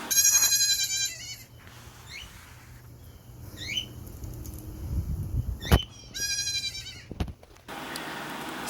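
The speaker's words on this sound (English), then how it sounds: "The house goat is pitching a fit right now." A house goat bleats repeatedly in loud, harsh, wavering cries, calling out in distress after being left alone indoors, with short pauses between the calls.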